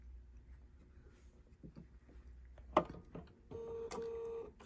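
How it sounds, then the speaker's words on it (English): A Bernina sewing machine stitching slowly while tying off a knot on a quilt block, with soft mechanical clicks and a brief louder clatter, then a steady whirring run with a faint motor whine. "This machine is set to tie off to knot the first couple stitches. That's why it's a little slow there."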